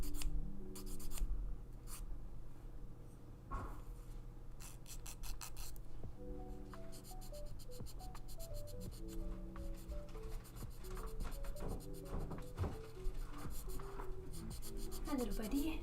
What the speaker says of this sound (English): This plastic sands very nicely.